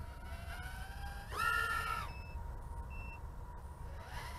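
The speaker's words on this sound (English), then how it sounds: "it's giving me a little beep on it already with that battery" A Razor X125 micro FPV racing drone gives off its low-battery beep: a few short, high-pitched tones over a steady background hum, with no talking.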